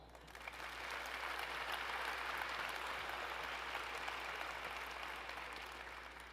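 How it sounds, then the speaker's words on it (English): Sustained applause from an audience at a university fundraising campaign kickoff celebration, a steady broadband wash of clapping that builds quickly and holds for several seconds, moderately distant and fairly quiet. "please give me some applause"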